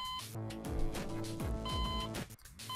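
A warning alarm in the hacking game Hacknet sounds as repeated electronic beep tones over a pulsing, sweeping synthetic game score, moderately faint and unbroken by speech.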